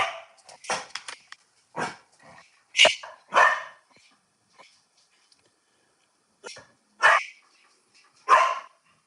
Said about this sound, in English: Sorry, guys, dogs bark.